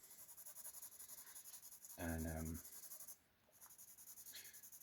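Pencil sketching on paper for a Rawhead Rex study gives a faint, steady scratching throughout, with a brief spoken word breaking in partway.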